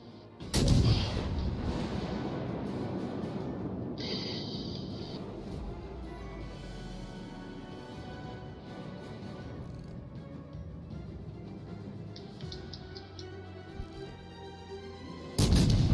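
Ship guns fire in a naval video game, with a heavy cannon blast at the start and another at the end, and a steady rumble of engine and battle noise in between.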